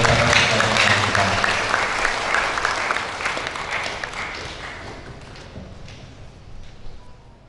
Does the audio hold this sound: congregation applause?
yes